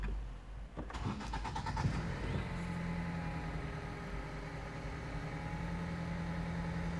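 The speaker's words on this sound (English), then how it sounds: "so with the engine idling" A Ford Escape engine starts with a brief cranking burst, then settles into a steady idle, a constant mid-pitched hum with a faint whine, close and alone without talk.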